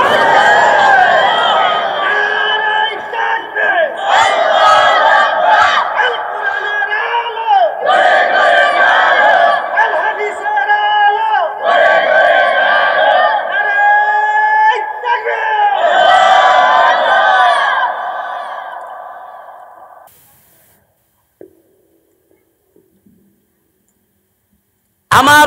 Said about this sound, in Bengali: জোরে জোরে বলে নারে তাকবীর